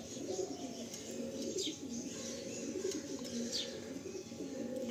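A pair of loft pigeons, a yellow-banded hen and a blue-banded cock, coo steadily and close by, their low throaty calls overlapping without pause.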